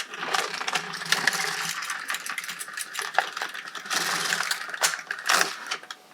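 An LK150 knitting machine carriage slides across a row, giving a busy clattering rattle of needles and metal parts in uneven bursts, close and fairly loud, with no voices.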